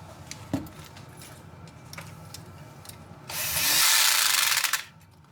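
Screw being started by hand on a 0.67 mm chassis spacer for a TGH-HH steering setup, a few faint ticks and a sharp knock, then a loud burst of clicking ratchet driving lasting over a second before stopping.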